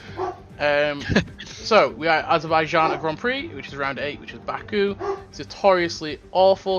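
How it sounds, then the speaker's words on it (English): A dog barks intermittently in the background, its yaps and woofs mixed beneath continuous close talk from a man describing a racing game session. "as you can hear the dog barking in the background"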